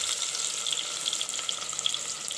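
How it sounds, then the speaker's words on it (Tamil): Constant close sizzling of finely chopped onions sautéing in hot oil for a tamarind prawn gravy, with bright crackles and pops throughout and no talking. "அதையும் சேர்த்து நல்லா வதக்கி விடுங்க"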